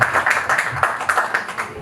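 An audience at an Easter gospel concert at BK Arena claps steadily, with brisk, uneven hand claps forming a dense wash of applause that swells and dips but never stops.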